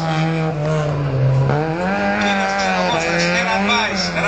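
A historic Fiat 128 car at a rally event runs with a steady, droning engine note that rises and falls slightly as it revs, heard close, with a voice speaking over it.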